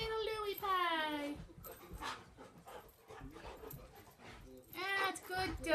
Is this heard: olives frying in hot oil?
no